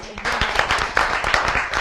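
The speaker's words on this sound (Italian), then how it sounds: "gli facciamo un applauso" Audience applause for guests at the 37th GP Mosole 2014 cycling event, a dense, steady patter of many hands clapping close up for about two seconds, with voices mixed in.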